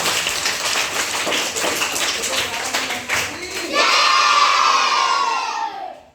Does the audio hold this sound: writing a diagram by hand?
no